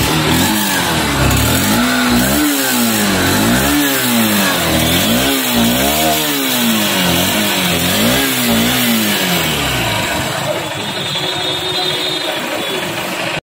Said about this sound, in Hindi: SP 160 row exhaust note आसंतु सुनिबा